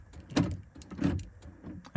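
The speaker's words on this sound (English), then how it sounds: "now we are testing the lock and unlock functionality" Power door locks on a 2011 Mazda 3 actuate from inside the car, giving a few short mechanical clunks spaced roughly half a second apart against a quiet background.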